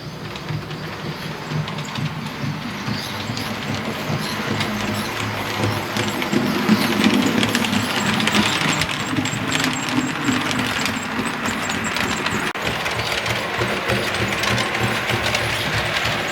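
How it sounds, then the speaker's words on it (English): Model railway train pulling out of Buntingford station on a layout, steady rumbling wheel and motor noise with faint clicking track joints, running continuously at a close, even level. "demonstration of a train leaving Buntingford and travelling right the way around the layout to Broxfield"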